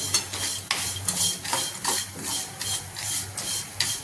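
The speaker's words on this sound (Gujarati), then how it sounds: "અડધી ચમચી જેટલું સંચલ પાવડર લઈ અને બરાબર મિક્સ કરી દઈશું" Roasted mango seed kernels are stirred with about half a spoon of black salt powder, giving steady, repeated scraping strokes roughly every half second, close and moderately loud, with no talking.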